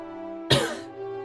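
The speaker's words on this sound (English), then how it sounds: "She coughed up blood again." A woman gives a single sharp cough, wet and harsh, as she coughs up blood. It lands over a steady low tonal drone, then trails off quickly.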